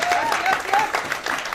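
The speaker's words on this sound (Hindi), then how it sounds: "जबरदस्त ताली चाहता हूं आप लोगों के माध्यम से।" Audience applause for a guru at a Hindi business motivational event, a dense steady clapping that fills the whole moment, with a voice or tonal sound briefly riding over it.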